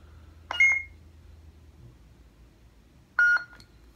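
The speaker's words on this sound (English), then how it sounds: "you can press and hold till the second beep." Two short electronic beeps from a lightsaber hilt, a couple of seconds apart, clear and close over a faint low hum.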